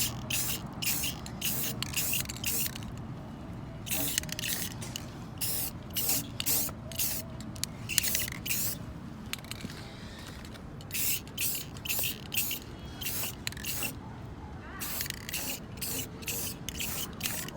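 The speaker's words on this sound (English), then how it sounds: "They said it's a good idea to put clear coat on it, so exactly what I'm doing." Short hissing bursts of clear coat spray from an aerosol can onto the exhaust welds of an Acura TSX catback system, repeated in quick pulses with brief pauses between and faint background noise.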